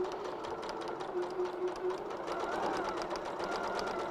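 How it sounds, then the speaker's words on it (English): Sewing machine stitching across squares of Tana Lawn cotton fabric, a steady close rapid mechanical whir with even stitch rhythm, running continuously without voices. "I've sewn across one line on both of my squares"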